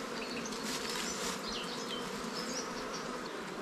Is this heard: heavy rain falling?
no